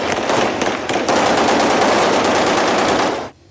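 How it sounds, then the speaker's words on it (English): Celebratory gunfire in Tripoli, Libya: dense, continuous automatic bursts and overlapping shots crackle nonstop at loud level before cutting off abruptly near the end. "Tripoli was celebratory with gunfire, nonstop for 3 days."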